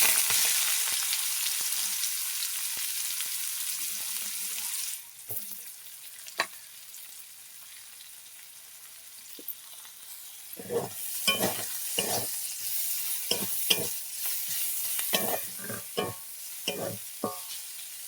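Onions frying in a pan for a fish curry with cauliflower and potato, a steady close sizzle that drops after a few seconds, then repeated scraping stirs and clanks over the crackle.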